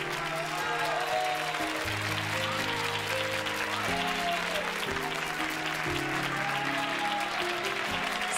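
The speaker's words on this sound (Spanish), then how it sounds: "Un aplauso muy fuerte para Bárbara, que necesita ese abrazo de su madre." A studio audience at a televised beauty pageant applauds steadily under swelling background music with sustained tones, the clapping an even, moderate wash that carries on without a break.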